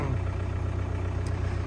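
A Caterpillar E70B excavator engine idles steadily at close range, a constant low rumble with an even throbbing beat and no voices.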